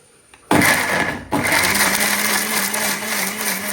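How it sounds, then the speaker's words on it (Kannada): An electric mixer grinder blends tomatoes, kicking in abruptly with a loud whirring roar, dropping out briefly, then restarting and running steadily at close range with a sustained motor whine. "ಇದನ್ನು ಈಗ ಮಿಕ್ಸಿಗೆ ಹಾಕ್ತಾ ಇದ್ದೇನೆ."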